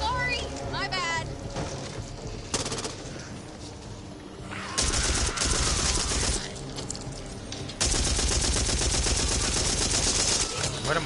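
Gunfire in the co-op zombie shooter Back 4 Blood, repeated rapid bursts of automatic fire with loud dense stretches, mixed with game sounds and players talking over it.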